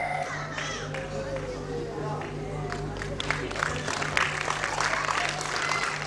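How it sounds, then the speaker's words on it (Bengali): An audience claps for a prize winner at a school prize ceremony. Steady applause builds and grows denser toward the end, with a low hum and some crowd noise underneath. "এবার জোরে করতালি হবে"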